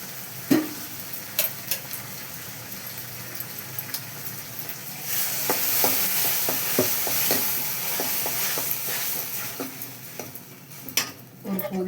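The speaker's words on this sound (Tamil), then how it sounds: "இப்போ அரைச்சி தக்காளியும் வெங்காயத்தையும் ஊற்றணும். பச்சை நோட்டம் போகிற வரைக்கும் வதக்கணும்." Ground onion and tomato paste sizzling in a pan for crab curry, a soft steady fry with scattered scrapes and clinks of a spoon stirring, close by and without talk.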